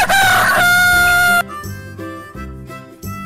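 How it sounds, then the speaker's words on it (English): A rooster lets out a single loud, close cock-a-doodle-doo crow lasting about a second and a half, followed by a light musical backing. "Rooster."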